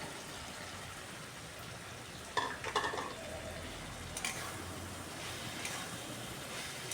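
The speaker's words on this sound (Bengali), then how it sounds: "মশলাটাকে খুব ভালো করে কষিয়ে নিচ্ছি।" Spice paste being stir-fried with previously fried potatoes in a pan, a steady soft sizzle with a few sharper scraping stirs of a utensil against the pan.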